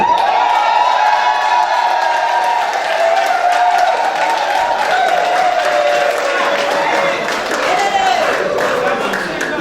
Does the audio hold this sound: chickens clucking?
no